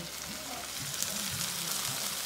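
Food fries under a lid on a hot plate in Japan, a continuous even sizzle with a hissing wash of steam, close and steady with only faint murmurs beneath.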